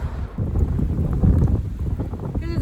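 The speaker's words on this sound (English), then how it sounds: "It's way windy." Strong wind buffeting the microphone in a continuous low roar, loud and gusty throughout.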